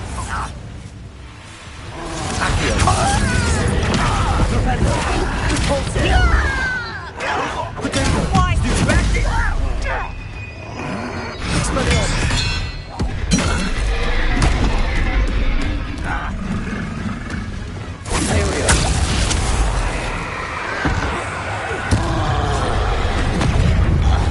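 A Bombarda spell in Hogwarts Legacy goes off as a heavy, roaring blast within dense, loud game action, with booming bursts and whooshing effects carrying on continuously throughout.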